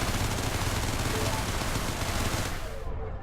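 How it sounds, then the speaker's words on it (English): Ship weapons firing continuously at a mineable fuel asteroid in the space game Everspace, a dense, loud, steady roar of rapid shots that thins out abruptly near the end. "Mineable fuel, we just shoot it and it breaks out."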